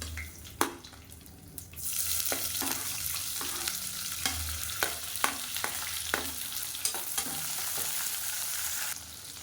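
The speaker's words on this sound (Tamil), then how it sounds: "இப்போ வெங்காயம் இந்தளவுக்கு வதங்கினா போதும்." Sliced onion frying in a pan with fennel, curry leaves and mint for a kurma, a steady close sizzle broken by repeated sharp scrapes and clinks of a spoon stirring.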